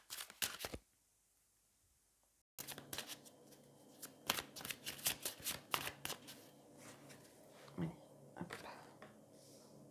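Hush Tarot cards are shuffled and riffled close up in quick bursts of crisp flutters and soft slaps, with a brief pause early on and gentle handling noises between shuffles.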